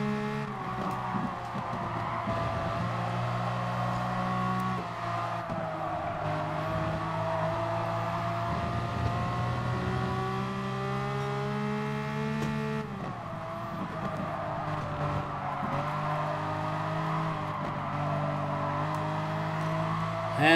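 Race car engine in Gran Turismo Sport during an FIA online race, revving hard with rising and falling pitch through gear changes, one sharp dip mid-clip before climbing again, loud and continuous.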